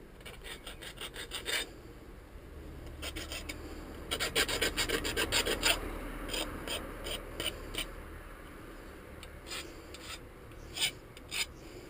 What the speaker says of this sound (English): When you saw pipe, it does leave a burr. Probably got a file here.